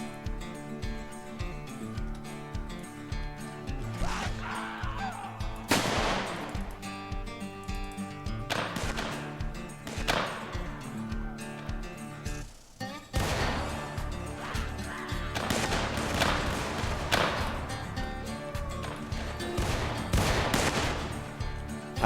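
Rolling musket volleys and scattered single shots crack through a Mount & Blade Civil War mod battle, loud and close, in bursts that swell and fade across the clip.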